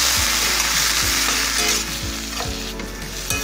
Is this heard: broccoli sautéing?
yes